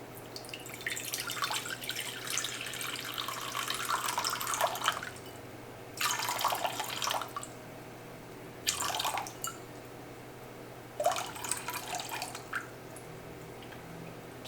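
Water trickles and pours into a bowl for gluten-free sourdough dough in several separate bursts of splashing, each a few seconds long, with quiet pauses between them.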